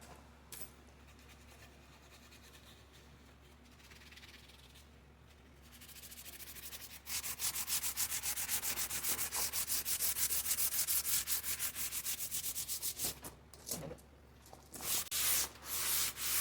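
Sandpaper rubs lacquer off the handle of a vintage axe, quiet scratchy strokes at first that build into loud, rapid, rhythmic back-and-forth sanding close by, then stop and start again in short bursts.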